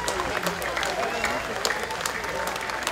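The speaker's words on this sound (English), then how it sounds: "You may applaud now from your seats." Inauguration audience applauding from their seats for the newly sworn-in Governor and Lieutenant Governor, a dense, steady wash of many hands clapping with scattered sharper claps, moderately distant and filling the room without pause.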